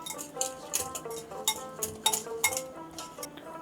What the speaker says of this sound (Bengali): সব উপকরণগুলো মিশিয়ে নেব।